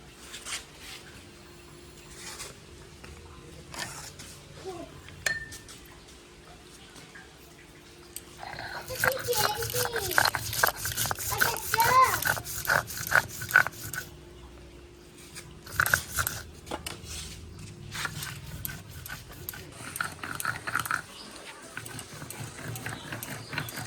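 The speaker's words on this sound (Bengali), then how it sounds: "এখন বেটে নেব গোটা সর্ষে" Whole mustard seeds are ground into paste for a chital fish dish, likely on a grinding stone, giving rough scraping and crunching strokes in uneven bursts after a quiet start, with background voices.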